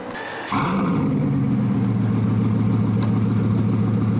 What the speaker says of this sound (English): It sounds amazing with the Mansory exhaust system.